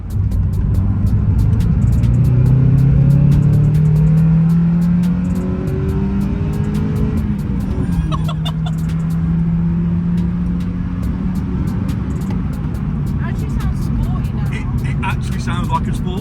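A Mazda MX5 fitted with performance mods and a loud exhaust runs with a deep burbling note, first revving up in rising sweeps and then settling to a steady rumble, with people talking over it.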